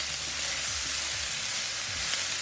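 Butter sizzles and fries steadily in a pan holding turkey strips and mushrooms, a bright, hissing crackle with occasional stirring thumps underneath, close and even, with no talking.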